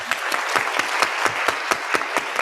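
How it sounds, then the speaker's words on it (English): An audience at a youth community day event claps in a quick, even rhythm, each beat clear and moderately loud, with no talk over the clapping. "Let's give it a round of applause."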